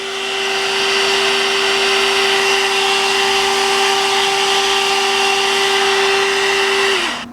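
A one-step hair dryer and styler brush runs on its high setting, a loud, steady close whine with a sustained hum that holds for about seven seconds before spinning down as it switches off.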